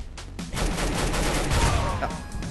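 Shotgun blasts and other gunfire in the game CS:GO, a dense burst of loud shots filling the short span with little pause between them.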